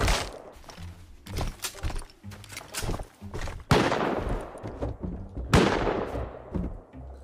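Gunfire from the player in Rust: bursts of close, sharp shots, some fired in quick rapid runs, with two heavier blasts that ring out and fade. No one speaks.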